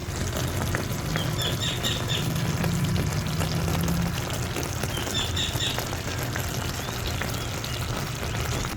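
Seafood and upo (bottle gourd) with chili cook in a pan, giving a steady, dense sizzle and crackle that runs unbroken from start to finish, close and fairly loud, with no talking over it.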